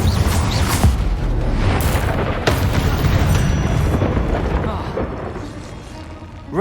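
Confringo explosion spell cast in Hogwarts Legacy, booming blasts with rumbling, crackling debris that fill the whole clip, loud and close, with sharp impacts near the start and middle.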